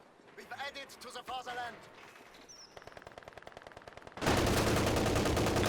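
Machine gun fire in the Company of Heroes 2 strategy game, a rapid even burst followed by louder, denser sustained fire, with someone talking over the start.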